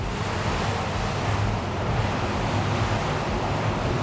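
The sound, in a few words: SACS Rebel 55 motor yacht speeding over waves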